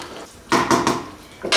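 A spoon clanks and scrapes against a metal pot of beef and potato stew in a few quick knocks, then pauses before another clatter.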